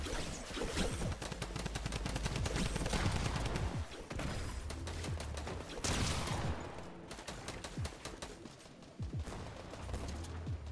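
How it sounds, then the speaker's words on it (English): Rapid, sustained bursts of Mythic AK assault rifle fire in a Fortnite match crack in dense volleys with brief pauses, loud and close throughout. "he's shooting his gun non-stop with a Mythic AK"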